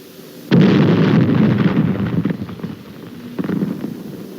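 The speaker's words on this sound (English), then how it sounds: "Toss in a grenade and let them divide it." A grenade explosion sound effect: a sudden loud blast breaks out and rolls into a long rumbling decay, followed by a sharper secondary burst a few seconds later.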